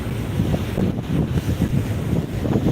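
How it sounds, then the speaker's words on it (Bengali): Several sand-carrying trawler boats travel together on a river during hilsa fishing, producing a loud, steady engine rumble mixed with water rush and heavy wind buffeting on the microphone. "এই দেখেন কতগুলো ট্রলার একত্রে আসতেছে ওরা সবাই বালি নিতে যাচ্ছে বালির ট্রলার এগুলা"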